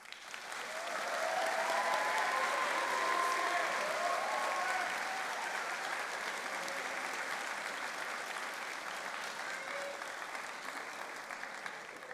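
Audience applause fills a convocation hall, loud and sustained, rising quickly and holding steady before easing slightly while the clapping continues on its own.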